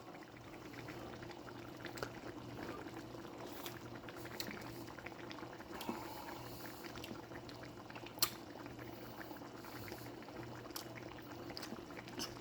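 Chicken and andouille sausage jambalaya broth boils steadily in a pot, a soft continuous bubbling and simmering with occasional small pops, heard close and quiet with no talk.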